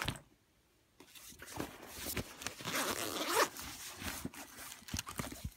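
The zipper of a Michael Kors zip-around compact wallet is pulled open around the edge, a close, quiet rasping run with light handling clicks and rustles before and after.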